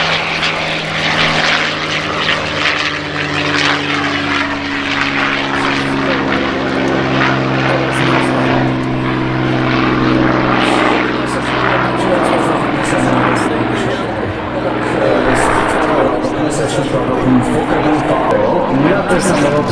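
A loud vintage propeller aircraft drones overhead at an airshow in Radom, its engine roar steady and close throughout, with faint talk underneath.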